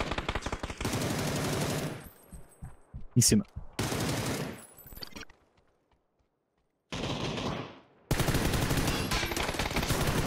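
Beryl and Dragunov gunfire in a battle royale game on the Miramar map, heard as loud bursts of rapid shots broken by gaps and near-silence, with a player briefly speaking.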